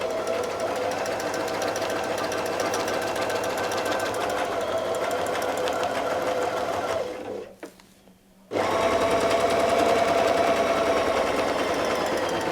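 A sewing machine runs steadily, stitching a circle around a quilting ruler pressed down on the fabric. It pauses for about a second near the middle, then resumes at the same close, loud, continuous pace.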